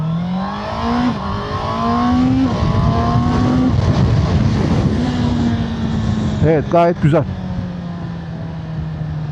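Engine of a 2025 Honda CBR650R motorcycle rising in pitch through several gear pulls, loud and close, with a person speaking briefly over it.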